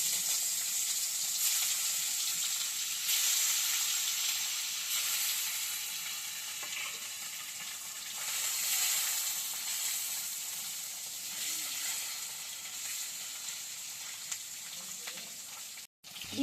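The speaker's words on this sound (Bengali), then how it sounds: "তেলটা গরম হয়ে গেছে, এবার ডিমটা আমি ভেজে নেব।" An egg frying in hot oil in a wok, a steady close crackling sizzle that swells and eases slightly over time, ending with a brief clatter.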